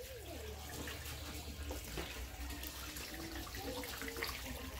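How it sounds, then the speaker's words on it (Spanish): Freshly shelled corn kernels are washed in water for tortillas, with a faint steady splashing and trickling rush like running water, heard at low level throughout. "va a lavar el maíz que se desgranó hace un par de minutos"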